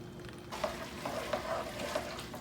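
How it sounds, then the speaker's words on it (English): Ricotta cheese melting in a pan, a soft continuous sizzle with light stirring clinks, fairly quiet and close. "you just drop your ricotta cheese in and let it just kind of melt by itself"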